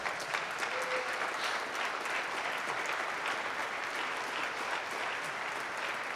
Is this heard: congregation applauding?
yes